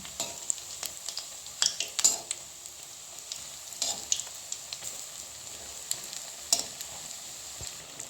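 Chops made of teasel gourd and red lentils fry in oil with a soft, steady sizzle and scattered sharp pops and crackles as they are turned.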